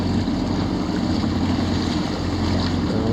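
Strong wind roars steadily over Lake Pontchartrain, heard from an open boat with swells slapping the hull. The wind buffets the microphone continuously and loudly, with no talking.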